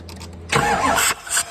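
A Ford Powerstroke 6.7 diesel truck engine cranks over without catching, a steady mechanical churn lasting about half a second to a second, then a short pause and a brief second burst, close and loud.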